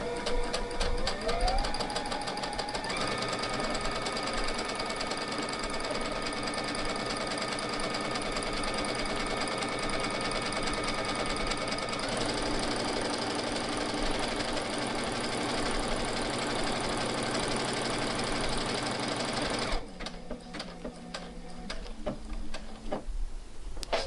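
A sewing machine stitches fabric along a seam line in a continuous, steady mechanical whir with a rapid regular needle tick, running close and even for about twenty seconds before it stops abruptly.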